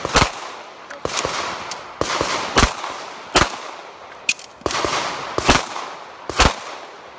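Pistol shots at a USPSA pistol shooting match, about a dozen sharp, loud cracks in uneven bursts and pairs over a steady outdoor background, no talking.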